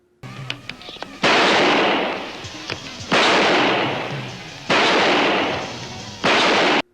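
Loud gunfire from the 1978 film Blind Rage: four heavy, noisy blasts spaced a second or two apart, each with a long decaying tail, preceded by faint clicks and handling sounds.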